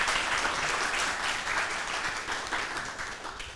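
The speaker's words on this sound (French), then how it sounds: "Ça peut s'applaudir très très fort, public" A television studio audience claps loudly and steadily, a dense wash of applause lasting the whole few seconds with no break.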